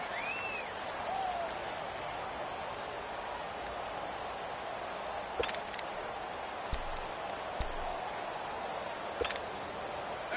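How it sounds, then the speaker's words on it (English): Football stadium crowd during a game, a broad, steady roar of cheering and noise filling the whole stretch, with a few sharp clicks and claps standing out. "the crowd getting into it as we come up on a big third down"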